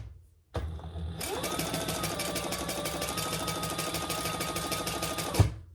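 A sewing machine stitching rows along an adjustable dog collar, a rapid even mechanical whir that starts abruptly, runs steadily for about five seconds, then stops.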